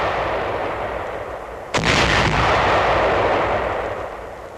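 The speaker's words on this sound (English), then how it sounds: "These anti-personnel shoe mines are exploded 4 at a time." Anti-personnel shoe mines are detonated four at a time by fuse and charge during mine clearance in 1945. A sharp, loud blast breaks over a steady background rumble and is followed by a rolling, decaying boom.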